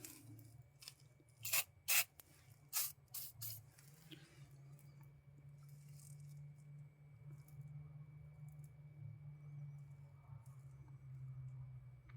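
WD-40 is sprayed onto a stuck refrigerant hose fitting on a Tesla Model S Dual Motor in a few short, sharp hissing bursts up close, followed by a quiet steady background hum.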